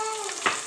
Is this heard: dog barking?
no